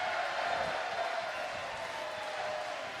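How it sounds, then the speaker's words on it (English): Crowd applause at a PBA Elite League bowling finals after a strike, a steady wash of clapping and light cheering heard from a distance, moderately quiet and continuous. "Big Nasty will get one more round of applause here"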